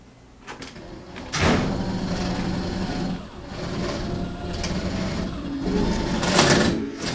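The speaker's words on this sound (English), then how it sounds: "right now we just did some pretty much pilot holes for the secret room door" A power drill bores pilot holes into a wall for a hidden room door, a steady loud whirring motor running close for several seconds with short changes in pitch.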